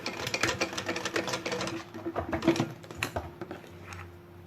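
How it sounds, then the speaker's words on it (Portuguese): A sewing machine stitches a sublimation-printed zippered bag in quick, rapid needle bursts with short pauses, close and fairly quiet. "E vou costurar."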